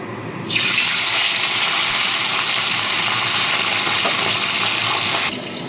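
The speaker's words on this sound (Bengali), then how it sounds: "তেলটাকে ভালো মতো গরম করে নিয়েছি এবার এর মধ্যে অল্প অল্প করে ট্যাংরা মাছ ছেড়ে ভালো মতো করে ভেজে তুলে নেব" Tangra fish frying in hot oil, a loud, sustained sizzling hiss that bursts up suddenly as the fish go in and continues steadily, close by.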